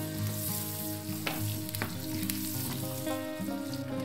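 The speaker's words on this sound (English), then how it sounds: "Melt the butter, and then here I add the garlic, big onion and ginger and mix together." Garlic, onion and ginger fry in melted butter with a continuous, steady sizzle, close and fairly quiet, broken by a few light stirring clicks.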